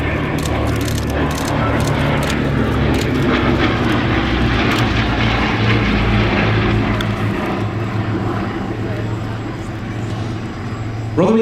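Propeller aircraft flying overhead at the East Fortune air show, a steady loud engine drone lasting throughout and swelling slightly near the end, with faint crowd noise beneath.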